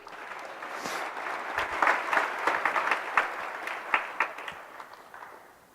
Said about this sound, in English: A special round of applause.